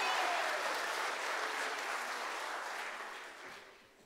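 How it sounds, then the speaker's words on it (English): A church congregation applauds children at a service, a dense, steady wash of many hands clapping that carries on for about four seconds and tapers off toward the end. "Can we give them another round of applause?"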